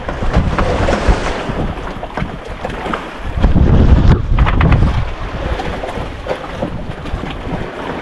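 Big waves and strong wind batter a small fishing boat out at sea off the southern Philippines, heavy wind buffeting the microphone while water crashes and surges loudly around the hull.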